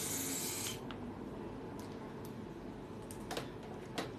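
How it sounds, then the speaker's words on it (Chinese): Hydrafacial machine handpiece sprays a fine water mist in a loud, steady hiss that fades after the first second, followed by a lower continuous spray with a few brief clicks. "你要看一下它喷出来的水的话是雾状的，比较利于皮肤的吸收。"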